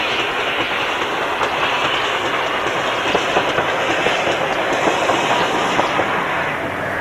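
Steady rolling train noise from a 0-6-0 pannier tank steam locomotive hauling an auto coach on the West Somerset Railway, with rhythmic clickety-clack of wheels over rail joints, continuous and fairly loud with no talk.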